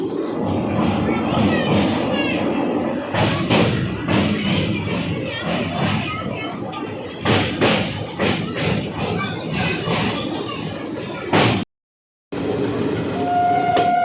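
The 12054 Amritsar-Haridwar Jan Shatabdi Express runs along the track, with loud continuous rumbling, rhythmic clatter and thumps of the carriages, a brief dropout, then the clattering resumes with a tonal whine.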